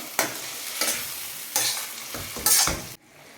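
Chicken and potato being stirred in a sizzling pan, with four or five loud scraping strokes of a spoon at a steady rhythm over continuous frying, ending abruptly.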